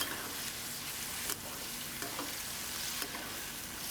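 Mapo tofu stir-frying in a pan gives a steady close sizzle with soft scraping stirs every second or so, with no voices.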